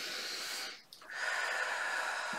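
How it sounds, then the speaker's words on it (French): A deep breath drawn in through the nose during a guided relaxation exercise, a close airy inhale that pauses briefly and then continues, with no talking. "Et vous prenez une profonde inspiration"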